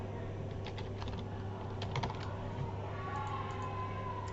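Quiet keys click on a computer keyboard in scattered soft taps over a steady low electrical hum, faint and somewhat distant.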